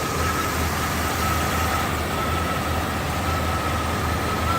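A 1991 Jeep Grand Wagoneer engine idling while running rich on a Motorcraft 2100 carburetor, a steady, continuous close-up drone with a constant low hum and no talking.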